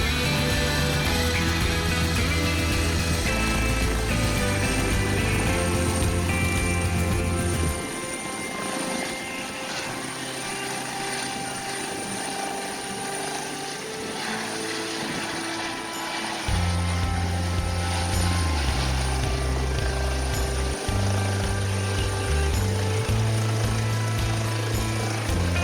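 Medevac helicopter spooling up its engine before lifting off with a patient, a loud continuous rotor and turbine roar close by that dips midway and then surges back, with no talking.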